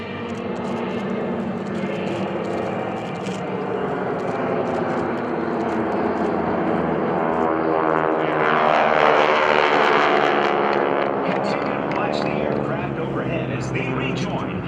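GEICO Skytypers propeller aircraft flying the Fan Pass at an airshow, a loud droning engine roar that swells as the formation passes overhead and then recedes, heard together with a public-address voice talking.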